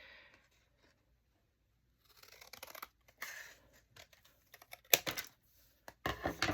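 Scissors snipping the corners of paper for a prayer journal page, a few sharp close snips and crisp paper rustles between quiet gaps.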